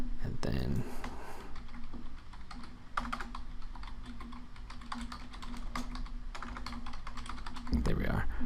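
Computer keyboard keys clack in quick irregular runs with brief pauses, close and moderately quiet, over a low steady hum.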